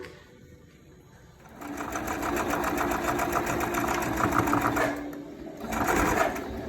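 A sewing machine starts up and stitches in a rapid, steady whir, briefly pauses, then runs again, close and clear with no talking.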